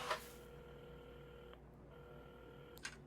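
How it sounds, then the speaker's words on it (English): Phone dialing in the Assemble With Care video game, soft steady electronic tones held across a few seconds with a short break and a faint click at the end, quiet and alone. "at the counter, Carmen had started dialing the phone."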